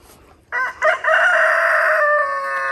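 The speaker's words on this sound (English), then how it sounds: "Out there with that dang rooster." A rooster crows close by on a farm with donkeys, two short clucks followed by one long, loud cock-a-doodle-doo call that fades slightly at the end, with no talking.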